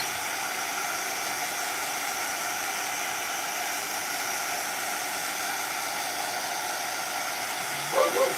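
A steady, even sizzle like food frying in hot oil, a constant hiss that holds for the whole stretch, with a brief louder bump near the end.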